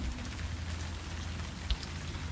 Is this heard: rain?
yes